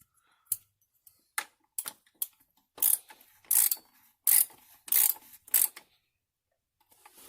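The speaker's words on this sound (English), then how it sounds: "you're going to need that oil filler wrench" An oil filler wrench ratchets on a Mercedes S430 W220 engine in short, close clicking bursts with quiet pauses between them, growing denser partway through.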